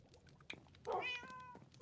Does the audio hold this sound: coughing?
no